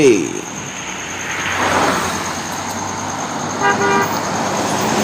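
A JRG intercity bus roars past nearby, rising and fading, with a brief horn toot and steady traffic noise behind it.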